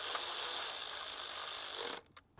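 A ratchet snugs down intake bolts on a 2015-2018 Ford Edge during a spark plug job. It gives a quiet, steady, rapid run of clicking for about two seconds, then stops.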